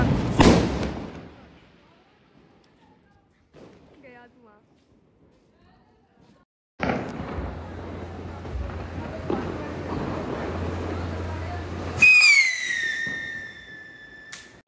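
At Diwali, a sharp firecracker burst, then quiet with faint voices, then a long hissing, crackling ground spinner ending in a loud whistling shriek nearby.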